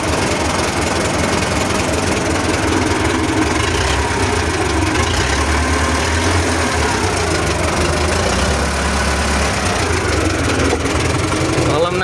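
A well-worn YuMZ tractor engine idles continuously, loud and close, with a steady low rumble and faint knocking throughout.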